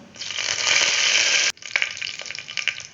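Chana dal, urad dal and curry leaves hit hot oil for a loud, steady sizzle, which breaks off sharply halfway, then returns as softer crackling with scattered pops.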